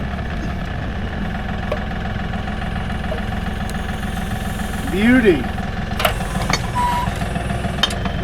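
Tractor engine runs at a steady idle with a continuous mid-pitched chugging drone, while someone speaks briefly over it and a short squeal and a few knocks rise partway through.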